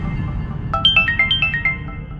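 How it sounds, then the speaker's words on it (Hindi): A mobile phone ringtone plays a short, bright run of repeating melodic beeps, loud and clear over a low steady background hum. "प्रीतो जी का फोन।"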